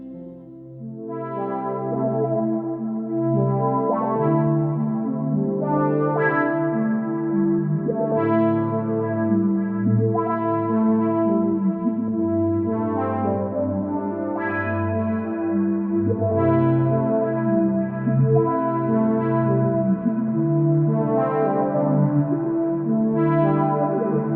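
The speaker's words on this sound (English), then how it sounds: "use multiple reverbs to construct a soundscape that complements our original synth" A sustained synth chord wash drenched in lush, layered reverb, notes blooming and smearing into one another continuously, loud and spacious with no voices.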